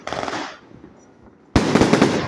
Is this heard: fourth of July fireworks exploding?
yes